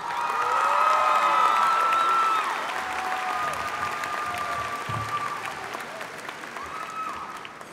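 Applause and cheering at the Dallas ISD Molina High School 2018 graduation ceremony, a big crowd clapping loudly with whoops and shouts, swelling at first and then easing to a steady, slightly softer roar.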